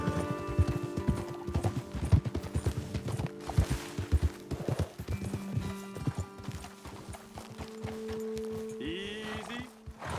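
Horses ridden in Red Dead Redemption II, hooves clip-clopping in a steady, close rhythm, with snorting and creaking tack, slowing toward the end.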